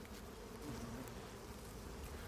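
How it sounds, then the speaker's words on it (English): Swarm of male Ammophila wasps on aerial patrol over Arizona desert ground, a dense, steady buzzing drone of many insects, faint and continuous without pause. "Above her are swarms of male wasps, all on aerial patrol."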